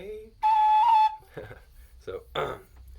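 A tin whistle sounds one bright, steady note, loud and close, held for about half a second, then softer breathy tones follow in short bursts.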